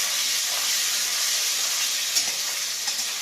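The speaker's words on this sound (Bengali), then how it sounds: "রসুন বাটাটা দিয়ে দিলাম" Garlic paste sizzles steadily in hot oil with nigella seeds and dried red chilli, a dense continuous frying hiss close to the pan with a couple of small pops and stirring scrapes, no voices.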